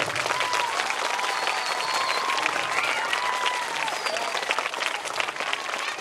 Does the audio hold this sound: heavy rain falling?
no